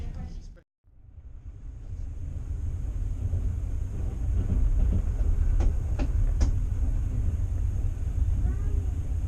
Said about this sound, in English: train number 42 from Moscow to Orenburg will depart at 9 a.m.